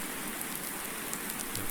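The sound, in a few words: rain in video game Farming Simulator 19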